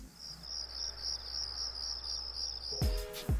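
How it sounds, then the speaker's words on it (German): Crickets chirp in a steady high-pitched pulsing trill, continuous and fairly close, used as an ironic silence gag; a sharp synthetic swoosh-like sound cuts in near the end. "Grillenzirpen."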